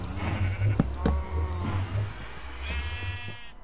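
Sheep bleats from a Minecraft game, several wavering cries in a row over a low steady hum, with a final higher bleat near the end; no one talks.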